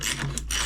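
A ratchet turns in a brief burst of quick, close clicks as it tightens bolts on the knuckle of a Piaggio MP3 500 HPE scooter during a rear tyre change.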